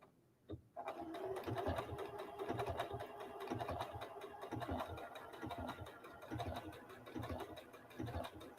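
A Janome Skyline S7 Anniversary Edition sewing machine stitches an applique, starting after a brief pause and then running in a steady rapid mechanical chatter with small stops, close and fairly quiet.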